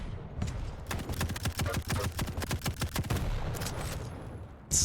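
Rapid heavy machine gun bursts in a Quake Pro League match at QuakeCon 2021, a dense run of sharp repeated shots with brief pauses, loud and close, followed by a lull.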